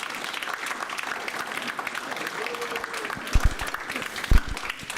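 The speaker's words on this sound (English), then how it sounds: "Let's give a round of applause for all of our candidates." An audience at a school board of education candidate meet-and-greet applauds, with steady clapping throughout, moderately loud in a room, and a few sharper bumps near the end.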